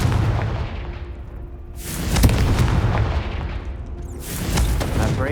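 A Confringo fire spell bursts in the Hogwarts Legacy video game, giving a loud booming explosion with a rumbling tail, then a second blast follows a couple of seconds later amid dense game ambience.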